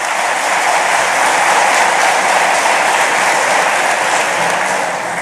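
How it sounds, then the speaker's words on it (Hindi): Loud, sustained applause from a crowd at a Madhya Pradesh Jal Jeevan Mission government event, welcoming a district team and collector; thick, continuous clapping that stays strong from start to finish. "एक बार आप भी तालियां बजा के पूरी टीम का स्वागत कीजिए।"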